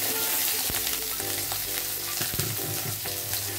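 Potatoes fry in hot oil in a pan with a loud, continuous sizzle and occasional faint clinks of stirring, close and steady throughout.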